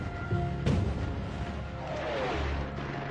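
Artillery barrage from World War II, with a sharp heavy blast followed by continuous rumbling booms and crashing bursts under a dense, noisy battlefield din.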